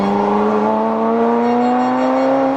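A Ferrari F40 engine revs in a loud, smooth climb, its strong tone rising steadily in pitch for a few seconds with no voices over it.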